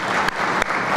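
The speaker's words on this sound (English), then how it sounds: "You can clap for that." A crowd at an O'Hare International Airport infrastructure announcement claps in a steady wash of sound, broken by a few brief louder bursts, with no voices over it.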